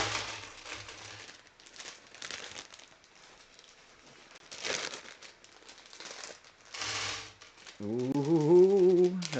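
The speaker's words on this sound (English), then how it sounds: "that's the sound of the last bag dumping out in my tray." A bag of Lego pieces from a Fortnite set dumps into a tray, making bursts of plastic rattling and clattering that come in several pulses at close range, followed by a brief tonal sound at the end.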